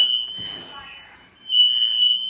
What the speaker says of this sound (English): the good thing is to know that the fire alarm actually works